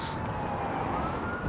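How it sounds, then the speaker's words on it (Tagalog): A police car siren in Edmonton's river valley sounds steadily throughout, a continuous wail over low street rumble, heard from an e-bike ride in cold weather. "oh pulis"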